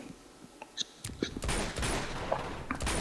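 Gunfire in Uncharted 2 on brutal difficulty comes as sharp scattered shots that build into a dense, continuous volley of rapid fire, loud and close, without talk.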